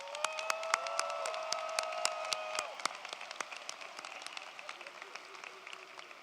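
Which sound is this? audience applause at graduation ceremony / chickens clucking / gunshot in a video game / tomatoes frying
audience applause at graduation ceremony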